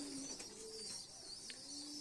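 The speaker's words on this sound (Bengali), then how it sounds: "এ হচ্ছে কবুতর।" Racing pigeon in a loft with squabs nearby, giving repeated low, soft coos over a faint constant background hum, with no talking.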